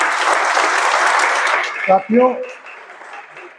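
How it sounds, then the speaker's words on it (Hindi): Loud applause from a gathered audience at an LIC agents' team event, dense clapping that carries on steadily before fading as a voice starts speaking. "आपके लिए जोरदार ताली।"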